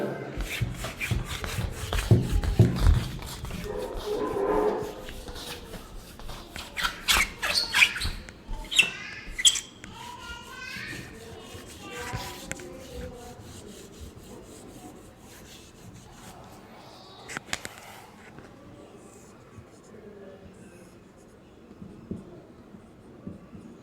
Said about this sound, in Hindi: रब कर दें।